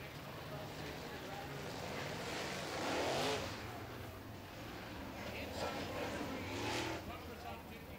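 Distant late model race car engines roar and swell around a track, with a loudspeaker voice talking over the steady crowd-like rumble.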